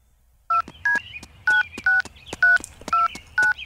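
Cell phone keypad tones from a Simpsons cartoon: after a moment of silence, about seven crisp beeps are dialed in quick, even succession.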